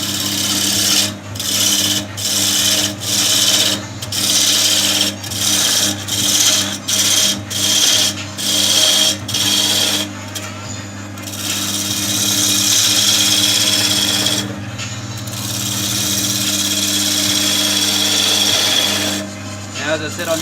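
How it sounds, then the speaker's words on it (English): A roughing gouge cuts wood on a lathe while a ball is turned, giving a scraping, rasping hiss in a series of regular strokes before settling into longer continuous cuts over the lathe's steady hum. "I'm using the roughing gouge just to take most of the meat off"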